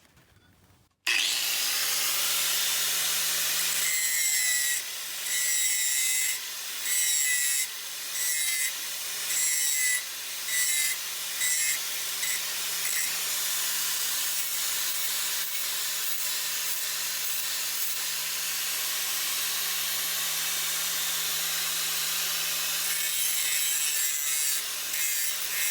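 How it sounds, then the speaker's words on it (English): An angle grinder works on a metal plate for an RC car skid weight, making a loud, steady, close grinding hiss that runs continuously for over twenty seconds with brief dips in pressure and no talk. "I'm gonna go ahead and grind that off"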